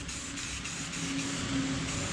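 Continuous spray paint hissing steadily onto a hitch-mounted vise, close and fairly loud, with no talking.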